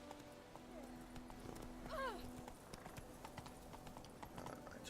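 A horse gallops in The Witcher 3 video game, its rhythmic clip-clop hoofbeats quiet and regular, with a short whinny in the middle and game sounds around it.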